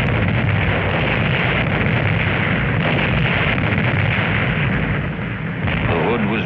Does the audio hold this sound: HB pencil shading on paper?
no